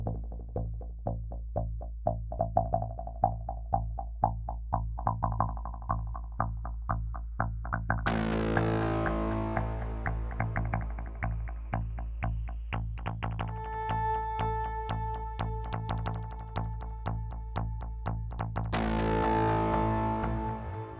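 Sample Logic Guitar Fury guitar samples run through distortion and effects, starting as a pulsing, chopped rhythm, then bursting into denser distorted layers with sustained tones and another loud swell near the end. No voices.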